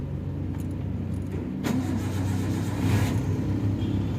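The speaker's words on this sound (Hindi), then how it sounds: "गाड़ी जो है स्टार्ट हो चुकी है।" A car's engine catches after ignition during an AC cooling repair, its idle humming steadily and loudly up close, with a metallic jingle of keys near the start and a slight rise in engine noise partway through.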